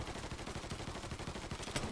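Rapid gunfire from the video game Mafia 3, a dense stream of closely spaced shots at steady moderate loudness for nearly two seconds, with no talking over it.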